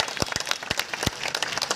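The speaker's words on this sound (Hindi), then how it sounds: "हाथ ऊपर उठाकर तालियां बजा के एक बार जितेंद्र जी के लिए तालियां हो जाए" A crowd at a political rally claps for MLA Jitendra Mahajan, with hands raised, producing loud, uneven, sharp claps close by over a wider bed of applause.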